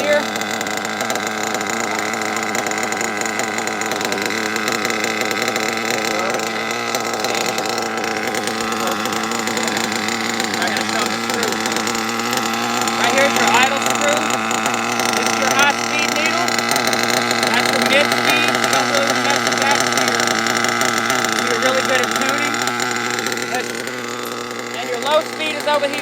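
A nitro engine with a 3-needle carburetor running steadily at a loud, constant idle buzz throughout, close up, with someone talking over it.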